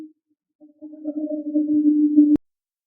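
A telephone ringback tone sounds while a call is being placed, a single steady electronic tone that holds for over a second and then cuts off abruptly with a click, clear and alone without any voices.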